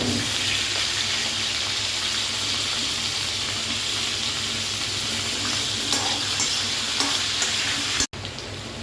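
Diced onion and potato fry in hot oil with cumin seeds in a pan while being stirred, making a dense, continuous sizzle close by. A brief cut in the sound comes near the end, and no one speaks.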